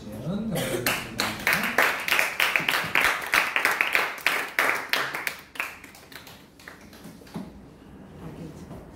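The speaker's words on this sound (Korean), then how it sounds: "우리 나오실 때 큰 박수로 함께해주시면 감사하겠습니다" A student congregation at a Bupyeong Vision Church youth worship service claps in a fast, dense burst lasting several seconds, then tapers off. A voice speaks before the clapping and again as it fades.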